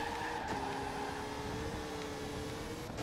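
A car engine in the racing video game Victory: Age of Racing drones steadily, holding a sustained, fairly loud tone throughout with only slight pitch shifts.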